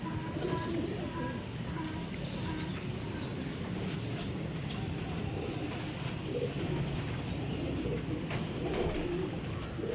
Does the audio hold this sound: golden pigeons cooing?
yes